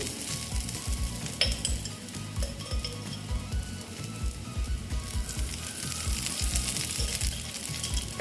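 Dhoka, a lentil cake, sizzles and fries in oil in a kadai, with a loud, continuous crackle close to the pan, punctuated by occasional utensil clinks and scraping as pieces are turned.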